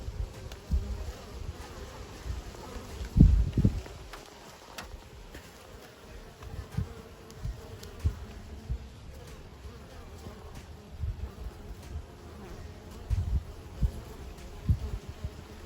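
Honeybees buzzing around a newly arrived hive in a vegetable garden, a continuous close drone of many insects with a few louder thumps and rustles near the start.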